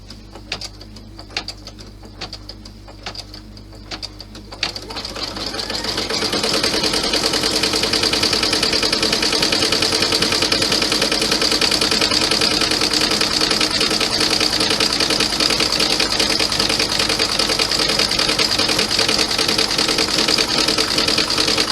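An embroidery machine stitches a satin stitch on a 6x10 clutch design. After a few seconds of faint ticking it settles into a loud, fast, steady mechanical whirr that runs on without pause.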